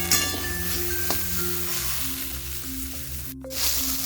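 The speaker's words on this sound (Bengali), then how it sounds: "তো দেখুন ঢেঁড়স আলু খুব ভালোভাবে ভেজে নিয়েছি" Okra and potato pieces frying in hot oil in a pan, a steady close sizzle with occasional faint clinks of a utensil, no voices.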